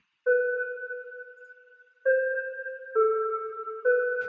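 Dry synth bell melody from a one-shot kit with no effects, four clean sustained tones stepping between pitches, each struck note ringing steadily before the next, alone and fairly loud.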